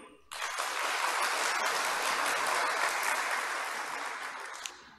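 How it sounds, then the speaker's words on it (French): An audience at the opening of a cardiology conference breaks into sustained applause, a dense wash of many hands clapping that starts abruptly, holds steady for several seconds, then begins to fade. "je vous prie de les applaudir"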